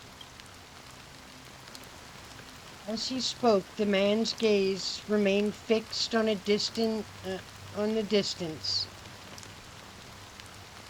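Light rain in the video game Honkai: Star Rail falls as a soft, steady hiss beneath a man's spoken dialogue, continuous throughout.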